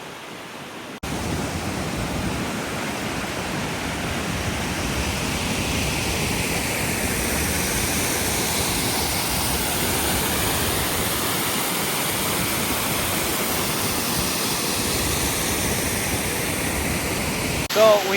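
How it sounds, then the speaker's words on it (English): A waterfall in Naha on a rainy day roars steadily and loudly, a dense unbroken rush of falling water with no voices over it. "So we made it to the waterfall."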